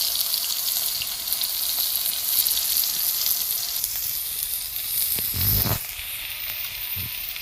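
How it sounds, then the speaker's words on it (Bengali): Eggplant slices fry in hot oil with a steady, loud sizzling hiss throughout, broken by a brief clatter of utensil or pan near the end. "তো আমার বেগুন এখন ভাজা হচ্ছে,"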